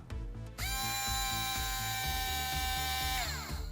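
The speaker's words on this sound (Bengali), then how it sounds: "তো আমরা শুনতে পাচ্ছি মোটরটি ঘুরছে" A small electric motor in a modified rechargeable sharpener starts with a click and spins up to a steady, loud whine with a rattling pulse beneath, holding for several seconds before winding down near the end.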